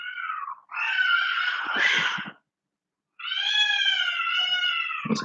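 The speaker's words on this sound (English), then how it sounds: "There's a cat outside." Cats fighting outside, with long drawn-out yowls and caterwauls in two bursts separated by a short silence, fairly faint and distant.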